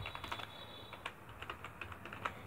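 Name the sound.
typing on a computer keyboard into the R prompt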